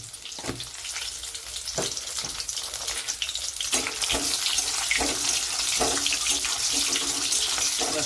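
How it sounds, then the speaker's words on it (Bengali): Eggs fry in a pan for a Bengali egg curry: a continuous dense sizzle that grows a little louder partway through, broken by a few sharp scrapes and taps, heard up close without talking. "এর বেশি আমি ডিম ভাজবো না।"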